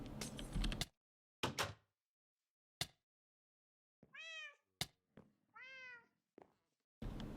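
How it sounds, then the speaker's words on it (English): An angry cat outdoors lets out two drawn-out, wailing meows close by, mixed with a few sharp knocks and clicks and brief bursts of background noise. "You can hear that cat again."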